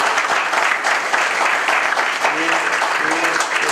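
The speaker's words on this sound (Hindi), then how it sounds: "आप तालियों से उनको" Dense, steady applause fills a lecture hall at a school of government in Pune, a loud continuous wash of many hands with a few faint voices mixed in.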